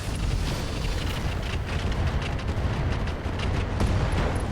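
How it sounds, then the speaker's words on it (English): Weapons fire at a German mech in the RogueTech mod of the BattleTech game, a dense, continuous roar of explosive blasts and rumbling impacts that stays loud and unbroken throughout. "we're going to fire at the German mech"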